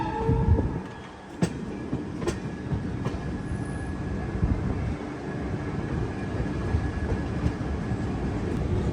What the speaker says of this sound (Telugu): బాగా స్లో అయిపోయింది ఇక్కడ. ఇంకా ఆపేసినట్టే, ఆగలేదు, వెళ్ళిపోతుంది బండి